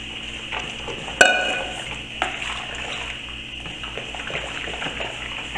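Room-temperature water poured from a bottle into a container while making homemade liquid soap from concentrate, with a clink at the start and then a steady splashing stream, close by, with no talking.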